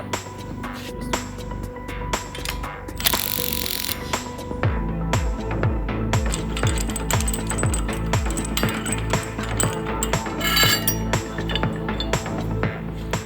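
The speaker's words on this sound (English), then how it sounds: "the bolts are loosened" Metal bolts loosened on a rupture-disc flange holder, a run of clinking, ratcheting clicks and small metallic knocks under a steady background hum, with a brief burst of hiss partway through.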